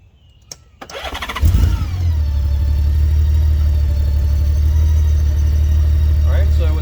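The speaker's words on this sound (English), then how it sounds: "the bike needs to be running." A Honda Gold Wing touring motorcycle cranks with a short whir, then its engine catches and settles into a steady, loud, low idle rumble that continues throughout.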